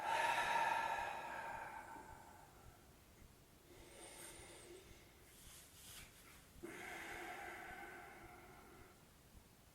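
Slow, deep breathing during a bedtime yin yoga session, a soft airy inhale followed by a long releasing exhale, close and quiet with no talking.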